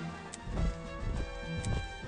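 Horse hooves clip-clop in the wargame Panzer General II as a cavalry unit moves, a few soft rhythmic thuds over a steady bed of game background sound, moderately close and fairly quiet.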